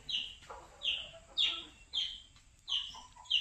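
A rooster clucking in short bursts, about six calls in a rhythmic series, near and clear against a quiet background.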